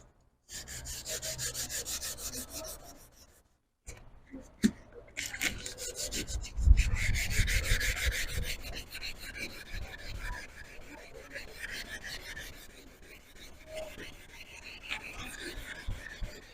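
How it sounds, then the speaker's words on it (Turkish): Repeated rubbing strokes of 500-grit sandpaper scrape against a car headlight, a rhythmic rasping that pauses briefly before continuing steadily. "500 zımparayla zımparalamaya başlıyorum"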